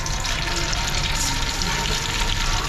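Tomatoes frying in hot oil with fish, a loud continuous sizzle and crackle close up with no voices.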